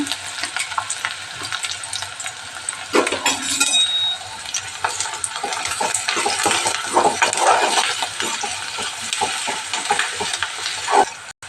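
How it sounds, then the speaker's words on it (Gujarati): Green chillies, onion and paste hitting hot oil in a pan for masoor dal, a steady loud sizzle with stirring and occasional metal clinks, no voices. "લીલા મરચાં નાખી દઈએ, ડુંગળી નાખી દઉં, અને પેસ્ટ નાખી દઉં"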